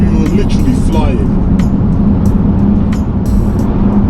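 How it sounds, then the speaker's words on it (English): A 2008 Bentley Continental GTC on big tyres cruises along, giving a steady, loud broadband road and tyre roar with a low engine hum underneath, while a person talks over it throughout. "so I do hear a bit of tyre noise"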